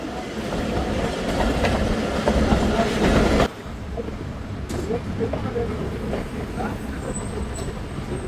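The Thal Express passenger train entering Mianwali in Pakistan, a loud continuous rumble of wheels on track with rhythmic clatter; the roar drops abruptly partway through, leaving a lighter rolling hum.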